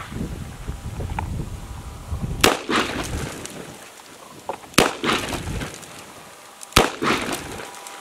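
Taurus M605 Poly revolver firing full-power .357 Magnum rounds outdoors: three sharp, loud gunshots spaced about two seconds apart, each followed by a brief ringing decay over light wind noise.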